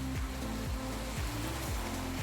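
Rain falling outdoors in Mexico, a steady broadband hiss of drops on surfaces with no rhythm or break, fairly soft and with no one speaking.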